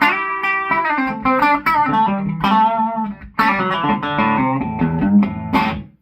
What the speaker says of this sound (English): That's it going through one 12-inch EV speaker.